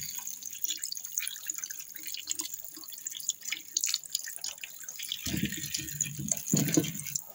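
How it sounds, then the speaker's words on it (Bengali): Raw potatoes being washed in a sink under a running tap, water splashing and dripping steadily at close range, with heavier rinsing bursts toward the end and no voices. "ধুয়ে নিই এগুলো, হ্যাঁ ভালো করে ধুয়ে নিই"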